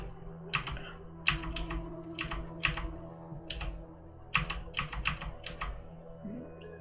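Bursts of typing on a computer keyboard while playing a game, about a dozen sharp key clicks in quick irregular clusters, close and clear over a low steady hum, with no talking.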